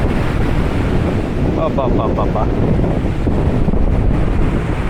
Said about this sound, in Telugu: బా చూడండి మీదకి వచ్చేస్తున్నట్టు ఉంది సముద్రం